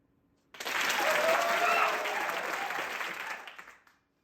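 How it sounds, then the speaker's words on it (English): An audience breaks into a short, loud burst of applause at a live radio event, swelling quickly and fading out after about three seconds. "We're gonna get one more little blast of applause"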